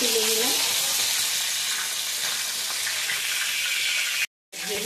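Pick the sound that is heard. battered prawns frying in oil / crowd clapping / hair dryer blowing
battered prawns frying in oil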